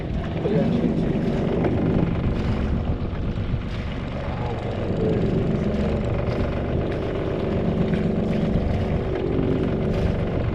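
A sailboat's engine drones steadily throughout beneath wind buffeting the microphone, with people talking over it.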